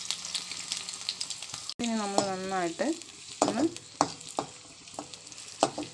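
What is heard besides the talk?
frying onion, garlic and ginger for fish curry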